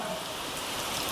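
Steady rain falls continuously outdoors, a dense even wash of drops close by with no breaks and no voices.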